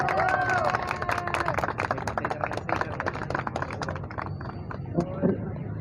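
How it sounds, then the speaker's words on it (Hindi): Steady clapping from a crowd at a Mother's Day celebration, mixed with chatter and voices, continuing throughout at a moderate level. "तालियां बजा दें।"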